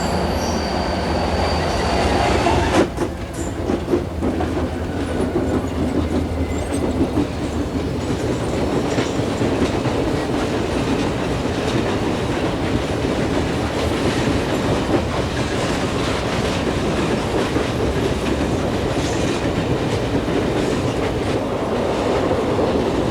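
A Norfolk Southern westbound train on the 1990 Pocahontas Division in the Appalachian hills, rolling out of a tunnel with continuous loud wheel rumble, clattering railcars and squealing wheels throughout.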